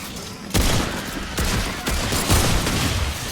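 Gunfire in the Remnant 2 video game, several dense bursts of shots layered over a noisy combat background, loud and continuous.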